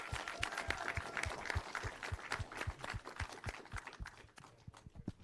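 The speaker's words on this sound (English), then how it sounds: "can you guys give a round of applause for the Bay Area filmmakers here?" Film festival audience applauding Bay Area filmmakers at a panel: faint clapping with prominent, evenly spaced, thumping claps close to the microphone over a softer crowd wash, continuing throughout.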